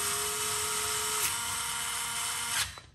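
A Craftsman 4V cordless screwdriver driving a screw tight, a close high motor whine that drops in pitch partway through, then a brief clicking stop as it finishes.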